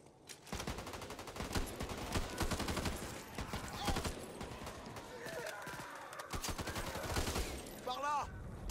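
Rapid pistol gunfire in the zombie shooter Back 4 Blood, a dense burst of sharp repeated shots running almost the whole time with brief gaps, loud and close, mixed with game effects.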